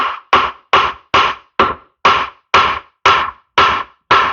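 A hammer strikes a part on a Ford 7610 tractor during restoration, loosening stubborn set screws: ten sharp, loud, evenly spaced metallic blows close by, each decaying quickly, with no speech.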